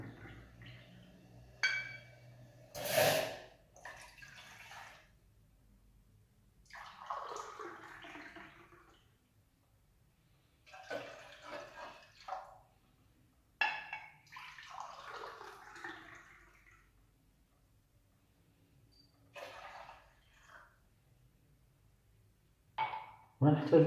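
Three glasses of water are poured into a pot for basbousa syrup. Several separate splashing pours arrive in bursts with light glass clinks between them, close and fairly quiet.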